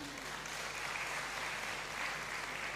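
Graduates at a university congregation ceremony in the Great Hall applaud, a continuous patter of many hands, fairly soft and distant.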